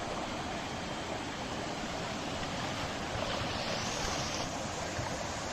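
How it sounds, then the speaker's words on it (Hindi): Steady, dense rush of falling water from a waterfall near Bhuban Pahar outside Silchar, loud and close, with a broad unbroken roar over about five seconds and some wind buffeting the microphone. "वाटरफॉल दिखाई दे रहा है आप लोगों को, सामने ही है"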